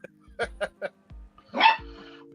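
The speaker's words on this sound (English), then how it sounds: "Now the little one's growling back at her." A small dog gives a few short, throaty growls and yips in quick succession, then a longer rough snarl, close and fairly loud, in a home beside a much larger senior dog.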